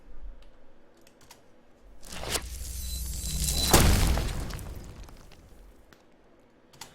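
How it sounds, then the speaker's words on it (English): Designed fantasy stone spell built from crumbling, breaking rocks, explosions and generic magic layers: a quiet start swells into a loud, dense crashing burst peaking near the middle, then fades away. "lots of kind of stones breaking and explosions, as well as a few more kind of generic magic sounds"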